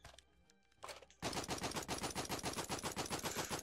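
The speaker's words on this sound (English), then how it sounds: "Fire off all your remaining rounds" Rapid automatic gunfire in a video game tutorial, a sustained loud burst of evenly spaced shots following a few quieter sounds at the start.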